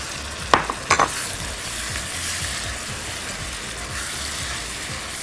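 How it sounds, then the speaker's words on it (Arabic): Sausage, leeks and carrots sauté in a pan with a steady, close sizzle, broken early on by a few quick clanks and scrapes of stirring. "انا دلوقتي كل اللي بعمله ان انا بشوح الحاجه كويس"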